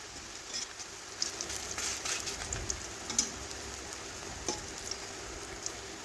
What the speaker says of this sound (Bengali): হালকা আঁচে বড়াটা ভাজতে হবে